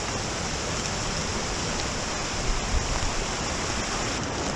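Creek water rushing through Dismal Creek in an Ozark National Forest setting, a steady full broadband roar of flowing water, constant and close, with no voices.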